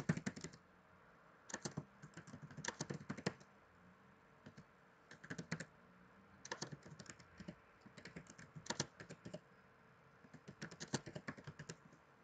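Keys clatter on a computer keyboard during business card design work in CorelDRAW, coming in irregular bursts of quick taps with short pauses. The typing is fairly quiet and close, and no one speaks.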